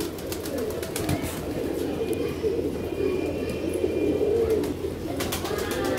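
Many pigeons coo continuously in a low, throaty chorus, close by, with occasional wing flutters and faint background noise.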